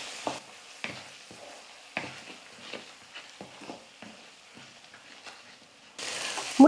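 Four eggs scrambled in a pan for a leftover idli breakfast dish: quiet, close spatula scrapes and light clicks recur at irregular intervals over a soft frying hiss, ending in a brief louder burst, with no voices.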